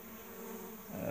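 Honey bees from a small removed swarm, set up on bare comb and feeding on sugar water, hum as a steady close buzz that swells slightly louder toward the end of the short stretch.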